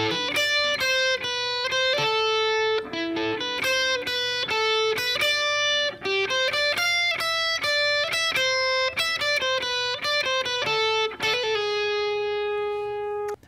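A distorted electric guitar plays the string-section line from a song, a steady run of sustained single notes moving stepwise in a repeating pattern, loud and close with no voices.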